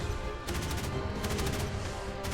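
An M242 automatic cannon in the naval combat game Modern Warships fires rapid bursts, a dense clatter of sharp shots layered over constant low rumbling battle noise.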